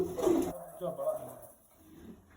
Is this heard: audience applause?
no